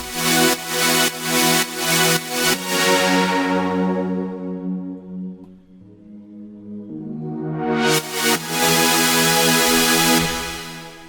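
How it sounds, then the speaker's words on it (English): Music with bell-like tones pumps in repeated swells, each note sharply cut short; it fades away mid-way, then builds back up loudly. "Some pretty hard ducking going on there."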